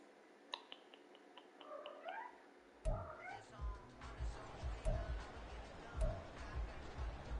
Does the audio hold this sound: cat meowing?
yes